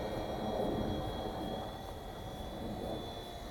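A WL toys V911-pro upgraded four-channel RC helicopter hovers close by, giving a steady faint electric whir with a thin high motor whine over low buzzing rotor noise.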